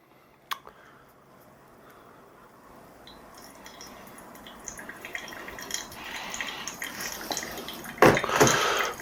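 Water poured by hand over coffee grounds in a pour-over brewer, a quiet steady trickle that slowly builds and swells louder near the end, with a sharp tap early on.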